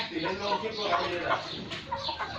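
Several free-range Thai chickens cluck and chatter close by in a busy, overlapping jumble at a farm sale, with soft Thai voices mixed in.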